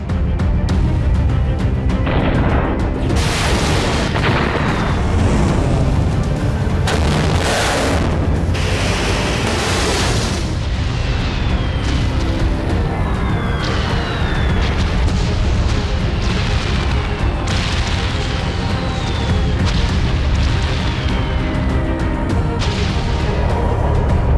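Explosions from an Israeli missile strike on Tehran's Pasteur district, with air defences active, boom again and again over a dense, loud roar, with sharp bursts and crackling layered throughout.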